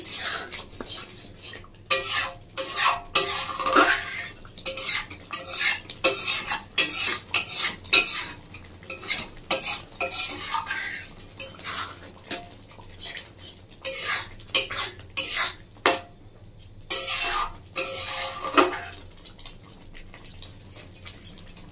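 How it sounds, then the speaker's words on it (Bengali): A spoon stirs honey into thick tomato chutney in a bowl or pot, producing repeated close scraping and clinking strokes in uneven bursts with brief pauses throughout. "এইভাবে হালকা একটু নাড়িয়ে নিচ্ছি"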